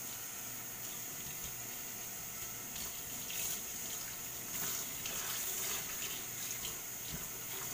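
Water runs steadily from a sink tap as an older woman's hair is rinsed, a continuous close splashing wash with slight surges in flow and no talking.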